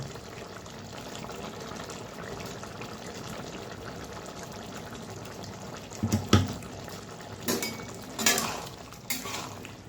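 A lid comes off a pan of potato, pointed gourd and paneer curry after a quiet simmer, making a few sharp metallic clanks and clinks close by.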